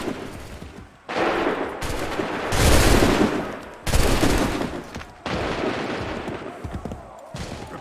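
Musket volleys crack out in Assassin's Creed III, several loud massed bursts of gunfire separated by short gaps, each a dense rattling blast, with shouted commands around them.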